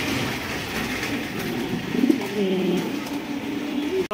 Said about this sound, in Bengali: ভাই আরো এক জোড়া কিং কবুতর মাশাআল্লাহ